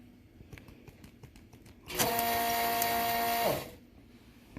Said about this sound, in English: Once it melts, we go back and forth with it and then suck it off like that